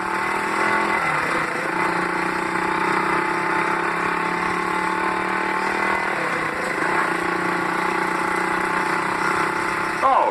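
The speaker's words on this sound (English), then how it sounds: "you pull out into the street and bring it up through the gears to around 20 miles an hour." A motorcycle pulls out into the street and accelerates through the gears to about 20 mph, its engine droning steadily and close for the whole stretch without a break.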